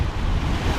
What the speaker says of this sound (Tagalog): Ang marinig mo lang, dalampasigan ng alon.